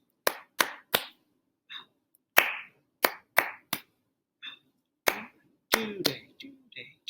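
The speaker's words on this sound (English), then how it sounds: "the rest of it, just clap the rhythm and say it" Third grade students clapping a short rhythm pattern in a music lesson, crisp claps in uneven groups with small gaps, close and clear, with a brief voice near the end.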